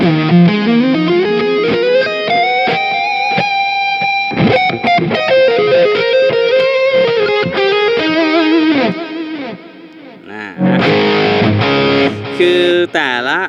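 Distorted electric guitar through a Mooer Prime P2 preset plays sustained, bending notes and then a burst of choppy chords, gritty and loud throughout.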